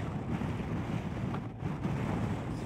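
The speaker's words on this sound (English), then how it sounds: "Very windy though, really is blustery." Strong wind roars steadily across the microphone on a BMW R1250 GSA motorcycle carrying two riders, a dense, rumbling buffeting with no pauses and no one speaking.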